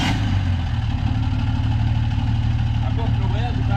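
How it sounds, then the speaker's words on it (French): An engine idles with a noisy clutch after arriving at a shop to have the full exhaust line redone. The steady, loud, close rumble runs throughout, and a voice speaks briefly near the end. "Par contre l'embrayage est un peu de bruit, c'est normal."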